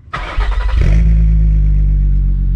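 A VR engine with a sport exhaust cranks and fires, barks through a quick rev, then settles into a loud, deep, steady idle with a throaty exhaust note.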